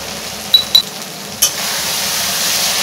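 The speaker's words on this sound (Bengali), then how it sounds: "ভালো করে মশলাটা কষে নেব।" A turmeric and chilli spice paste fries steadily in a pan while being stirred, cooked down for a fish jhal. A steady sizzle carries the whole clip, with a few sharp metallic clinks of the utensil early on.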